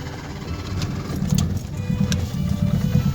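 A small Yugo car engine idles and revs unevenly nearby, a low rattling chug with a few light clinks over it.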